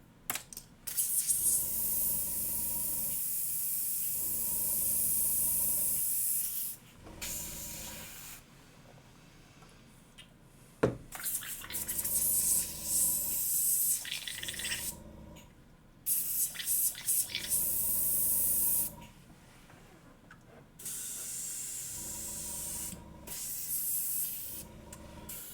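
An airbrush spraying paint in repeated bursts of steady hiss, each lasting a few seconds and separated by quiet gaps, with a sharp click or tap between bursts, close and moderately loud, with no speech.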